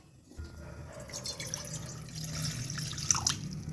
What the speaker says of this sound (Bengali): আমি একটু জল ঢেলে দেবো কড়াইতে মধ্যে